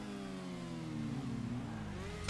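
A video game motorcycle engine whines steadily at mid pitch, its tone sliding and rising as it revs, loud and close with no talking.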